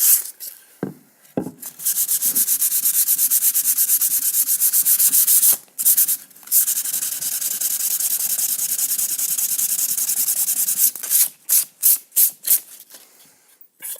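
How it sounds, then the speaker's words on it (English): Sandpaper rubs back and forth over painted wood to distress the finish, a loud close scratchy rasp in long sustained strokes broken by short pauses, ending in a run of quick choppy passes. "Kind of sand everything too."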